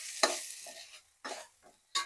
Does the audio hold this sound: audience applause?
no